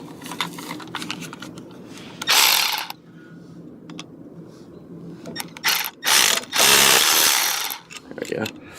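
A ratchet tightens a bolt back onto an F350 truck being set up as a plow truck, with loud close bursts of rapid clicking separated by short pauses and quieter handling noise.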